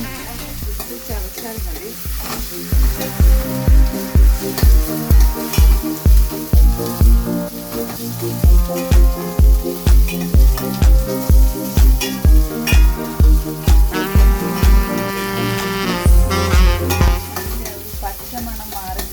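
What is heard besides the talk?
ginger garlic paste sizzling in a pan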